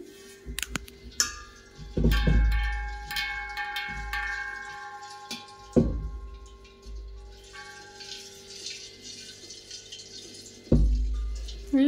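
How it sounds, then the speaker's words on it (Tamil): Water sloshes and gurgles inside a shaken metal gas cylinder in several bursts, with clanks and rattles between quieter pauses. "லைட்டாக ஆட்டினா கூட வாட்டர் சவுண்டு கேட்குது."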